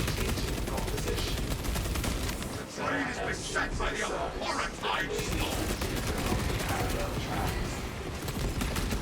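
Heavy Bolter firing on full auto in the video game Helldivers 2, a dense, continuous rattle of rapid shots that stays loud for the whole stretch, with a brief dip and voices talking over it.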